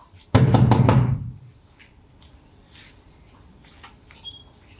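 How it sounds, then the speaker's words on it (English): Four sharp, heavy knocks on a door in a staging of Macbeth, struck in quick succession and loud, followed by quiet room tone with faint rustling. "Whence is that knocking?"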